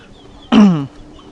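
A chicken gives one short, sharp, nasal cluck or squawk close by. The call lasts under half a second against quiet background noise.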